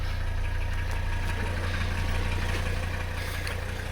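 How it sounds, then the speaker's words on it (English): A Mercedes 300CD diesel engine idles steadily right after starting warm, with a constant low rumble and mechanical knock, close and loud throughout with no talking. "She's a running. Let her idle for a second."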